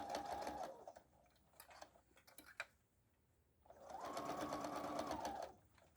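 Sewing machine stitching fabric for an Easter basket, running in two steady buzzing bursts with a pause of soft ticks and handling noises between them.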